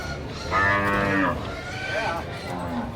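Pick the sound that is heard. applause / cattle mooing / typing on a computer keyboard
cattle mooing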